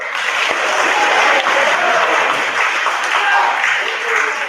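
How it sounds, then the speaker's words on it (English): A crowd claps at a high school science symposium, producing a loud, dense and steady roll of applause from many hands that lasts the whole stretch. "everybody clap"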